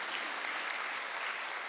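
A church congregation at a Sunday worship service breaks into applause, a dense, even wash of many hands clapping with no voices.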